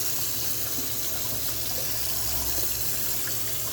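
Tap water streams steadily over a still-hot engine part being rinsed at a sink, a continuous close splashing hiss with no pauses.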